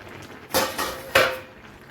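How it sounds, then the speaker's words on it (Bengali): A metal lid comes off a cooking pot of simmering vegetables, including pumpkin and carrot. There are two quick, close clanks about half a second apart, with no talking. "ঢাকনাটা খুলে দেখে নেব।"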